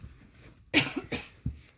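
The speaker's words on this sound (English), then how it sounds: "why are you still coughing?" A few short, close coughs come one after another, each a sharp burst with a pause between, with no talk.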